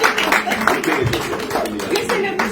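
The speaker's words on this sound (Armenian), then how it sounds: "Մենք հիմա նորից ծափահարություններով ձեզ պետք է դիմավորենք կարմիր աթոռի վրա նստելու" An audience claps at a book presentation, a dense, steady patter of many hands that runs throughout, with speech mixed in.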